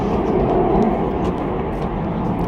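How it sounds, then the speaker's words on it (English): An airplane taking off near a football ground, a loud, steady, broadband jet roar filling the whole stretch with no pauses. "as another plane takes off and I get deafened."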